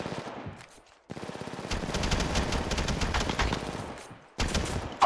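Rapid automatic gunfire in the video game Apex Legends, loud sustained bursts filling most of the span with a short pause near the start and a fresh burst at the end.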